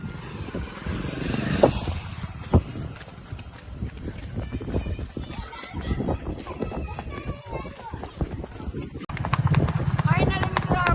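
Hooves of a ridden mare clop in an uneven, fairly steady rhythm on a road, close and moderately loud, with people talking over much of it.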